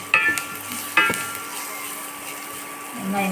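Vegetables sautéing in a pan for a South Indian rice dish, a steady low sizzle with two sharp stirring scrapes near the start, alone with no talk.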